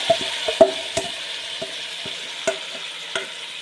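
Marinated mutton for biryani frying over a high flame, with a steady sizzle and repeated scraping taps of a spoon stirring the pot, no voices.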